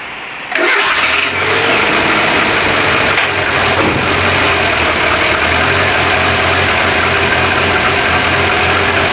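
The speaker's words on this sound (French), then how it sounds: "Le JS 2000 a fait redémarrer mon véhicule." After a silent gap and a brief cranking, a car engine restarted with a TOPDON JS2000 jump starter booster catches abruptly and settles into a steady, loud, close idle with no talk.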